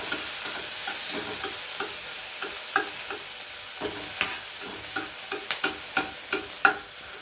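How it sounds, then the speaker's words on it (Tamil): Garlic, ginger, onions, small onions and tomato sautéing in a pan, a steady soft sizzle broken by a series of clacking stirs from a spoon against the pan, growing more frequent toward the end, no talking. "பூண்டு, இஞ்சி, இதில் கொஞ்சம் வெங்காயம், சின்ன வெங்காயம், தக்காளி இதெல்லாம் போட்டு வதக்கிக்கலாம்"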